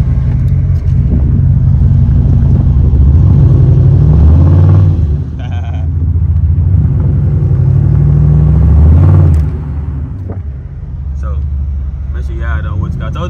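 Cammed Chevrolet Impala SS on a snowy road with its wheels spinning, a loud rumbling engine rising and holding as it revs, then dropping off to a lumpy idle, with people talking throughout.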